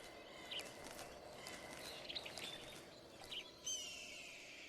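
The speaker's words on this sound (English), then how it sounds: "like one of these bird noises is him" Faint bird chirps in a forest setting within Metal Gear Solid 3, a few short scattered tweets over a soft ambient background, with no talking.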